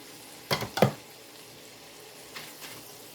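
Peppers and onions hitting a hot pan for enchiladas: a couple of close, crackling bursts of sizzle and stirring near the start, then only faint frying with a few soft scrapes.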